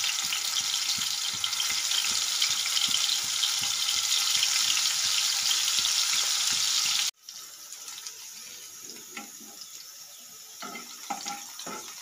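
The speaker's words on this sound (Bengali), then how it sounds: "তেল গৰম হৈ গ'ল মোৰ। এতিয়া মই মাছখিনি ধুনীয়াকৈ ভাজি ল'ম।" Fish fries in hot oil with a loud, dense, continuous sizzle that cuts off abruptly partway through, leaving quieter kitchen clatter and faint rustling afterward.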